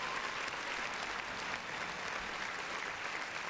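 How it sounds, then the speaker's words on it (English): Steady, dense clapping from a crowd, continuous throughout at a moderate, somewhat distant level. "Round of applause."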